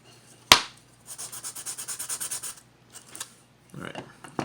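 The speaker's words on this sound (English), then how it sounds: "I'm also going to use my sanding stick to clean that up a little bit" Sanding stick rubbed back and forth to smooth the air slot in a wooden block for a Native American style flute, a sharp tap then a run of rhythmic close scratching strokes, with a few more short strokes after a pause.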